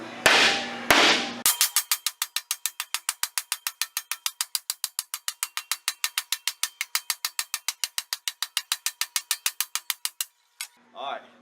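Sheet metal being stretched for an inner wheel house on a Woodie, shaped on a pneumatic stretcher with a fast, steady run of sharp metallic clacks lasting about eight seconds. A few louder knocks come before it and a short scrape follows.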